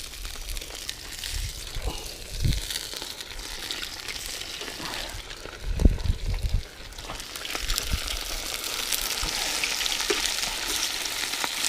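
Crucian carp coated in semolina frying in oil in a pan, with a steady crackling sizzle that swells and fades, plus occasional low bumps as the pan is moved. No one speaks.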